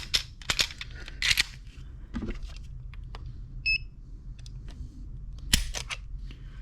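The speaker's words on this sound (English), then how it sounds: "And I'll just do one trigger pull." Sharp mechanical clicks from a dry-fire trigger pull on a Kimber Micro 9 ESV pistol measured on a trigger gauge, a handful of crisp snaps spread out over a quiet background with a short electronic beep partway through.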